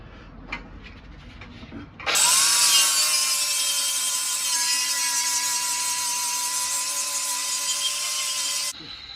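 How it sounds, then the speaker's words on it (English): An angle grinder works on a metal part from a Yamaha Virago 250 motorcycle during restoration. After a short quiet spell it starts abruptly and runs as a loud, steady, high whine, then stops sharply near the end. "So let's go with the grinder, let's start"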